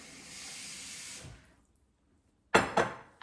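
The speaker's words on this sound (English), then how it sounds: "I'm going to add in some cold water to let it like dissolve" Cold tap water pours over frozen raw shrimp for a steady gush of just over a second, then stops; after a short silence come two brief clattering knocks, no talking.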